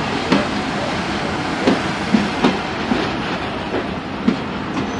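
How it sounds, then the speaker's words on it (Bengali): A Mongla Commuter passenger train hauled by a 6510 series locomotive runs along the line. Rhythmic clickety-clack wheel beats sound at irregular intervals over a constant close rumble. "এটা হচ্ছে মোংলা কমিউটার ট্রেন"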